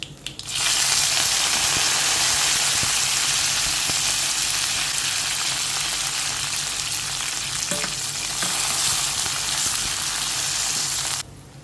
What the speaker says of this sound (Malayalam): ഇനി ഇതിലേക്ക് നമ്മൾ അരിഞ്ഞു വെച്ചിരിക്കുന്ന എല്ലാം കൂടെ ഇട്ട് കൊടുക്കാം